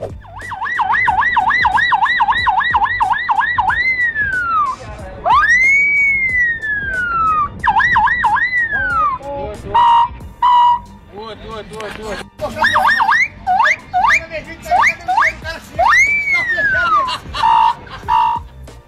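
A young boy vocally mimics a wailing police siren, rising and falling sweeps and rapid warbles repeated in bursts with short pauses, loud and close.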